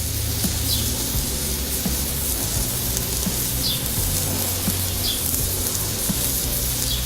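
Pork chop cooking on a 36-inch Blackstone griddle, a soft steady sizzle with light spattering pops, heard close and continuous without speech.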